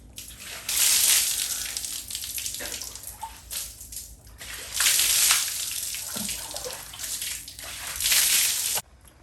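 Shower water runs at a farmhouse in Thailand, a steady hiss of spray that swells and eases in several long bursts, close by and with no voices.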